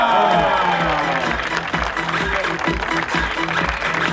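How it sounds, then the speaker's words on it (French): A crowd claps and cheers at a moderate distance, with clapping and murmuring voices blending into a sustained wash of noise. "Applaudissements."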